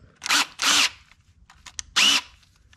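Power drill spinning a pin held in its chuck while setting up a 200-4R transmission servo: three short, close, whirring spin-ups with a rising whine, separated by quiet pauses and light handling clicks.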